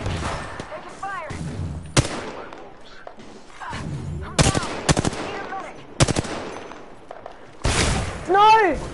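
Gunfire in the video game Apex Legends, with rapid automatic bursts and sharp single shots over a few seconds, loud and close, among other in-game sound effects.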